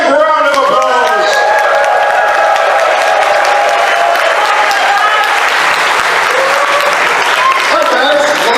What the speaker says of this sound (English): please give Chris and Jim a big round of applause